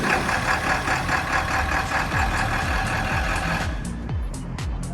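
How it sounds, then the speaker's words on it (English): A 1995 Ford F-250 XLT pickup with a 7.3L Power Stroke diesel engine rolls in, a rough low clattering idle rumbling steadily nearby, with a few faint high beeps toward the end and no talk. "You can hear that diesel motor rolling in."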